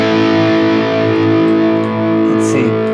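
An electric guitar plays a crunchy overdriven tone through a Valeton GP-200 Marshall amp model, sustained distorted chords ringing loud and close for a few seconds.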